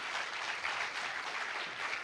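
Church congregation clapping together in a sustained burst of applause, fairly distant and soft, with no voices over it.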